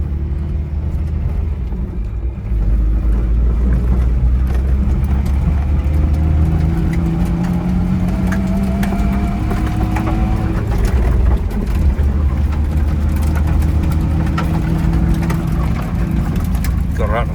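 A 1981 Datsun MQ Patrol with an SD33 diesel engine and four-speed gearbox drives along, its loud, rough diesel drone rising and falling through gear changes as a voice talks over the cabin noise.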